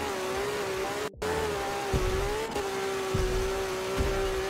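A race car in the Forza Motorsport 7 video game roars at top speed near 276 mph, a steady high-pitched engine whine held almost constant with a brief cut and small dips, loud and continuous without speech.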